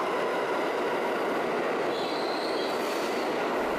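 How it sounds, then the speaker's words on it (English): A loud New York subway train roars past continuously inside the station, a dense wash of rumble and rail noise with metallic wheel squeal rising near the end, close and deafening, no voices. "When we first entered the subway, the first one that came past was really loud and deafening."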